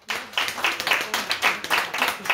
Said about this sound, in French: Donc on peut encore l'applaudir.